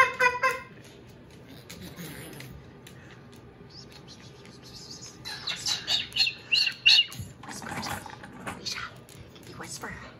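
A pet cockatoo gives shrill calls and squawks in a burst midway through, close and loud, with softer chirps at the start and people talking around it.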